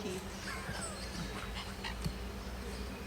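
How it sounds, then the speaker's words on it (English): Birds calling at Hope Zoo in Kingston, Jamaica, with thin chirps and a few sharper calls scattered over a steady, noisy outdoor background, moderately distant and without speech. "We have some birds right there"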